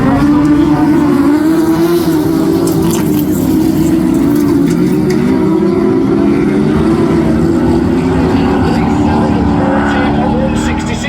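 Autograss race cars at the Men's Class 10 Nationals pulling away from a start, a loud continuous engine roar from several cars, with a commentator talking over it throughout.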